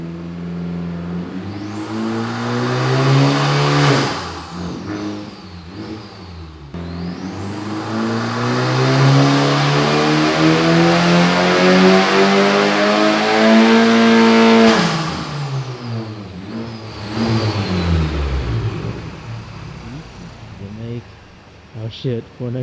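A Honda Civic Type R FK8 on a chassis dyno during a power pull, its engine revving hard through rising sweeps with gear changes, then winding down and going quiet at the end, loud and close.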